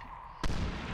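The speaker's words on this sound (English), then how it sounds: "Why did my remote charge go off?" A remote charge in the video game Medal of Honor Warfighter goes off as one sudden, loud blast that cuts in midway. A broad rumbling roar follows and carries to the end.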